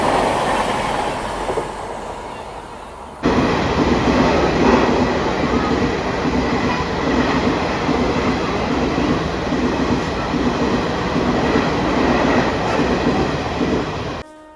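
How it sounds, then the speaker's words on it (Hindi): The Howrah Rajdhani Express passes close on the Kanpur–Delhi line, a rising rumble that jumps into a loud, sustained roar of rolling wagons with a high steady whine, continuing for over ten seconds before easing off. "संपूर्ण क्रांति से चिपक के आ रही थी भाई पीछे पीछे हावड़ा राजधानी"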